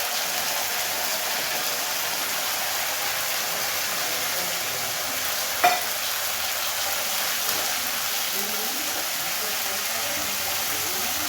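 A Bengali egg curry fries in a pan with oil and a pinch of salt while being stirred, giving a steady close sizzling hiss throughout and a single sharp clink near the middle.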